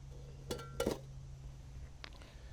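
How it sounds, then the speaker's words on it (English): A cast iron Dutch oven set down onto its metal ring outdoors, two close metallic clanks in quick succession, then a faint softer clink, over a low steady hum. "I'll put my Dutch oven back on"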